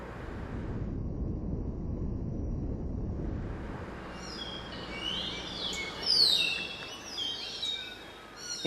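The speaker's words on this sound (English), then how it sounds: "the whistle of a Malabar thrush gently lands on the ear" Malabar thrush whistling in lifting fog in a forest habitat of lion-tailed macaques, several bright melodic phrases rising over low wind rumble in the second half, fairly distant and soft.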